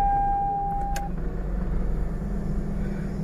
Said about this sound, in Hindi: गाड़ी को स्टार्ट करते हैं।